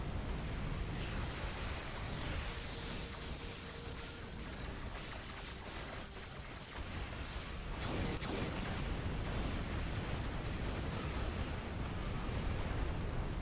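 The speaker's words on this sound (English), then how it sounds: "Torpedoes are fun." Torpedo explosions from a Star Trek Online space battle, a dense, continuous wash of blasts and bursts with loud broadband rumble and a sharp impact midway.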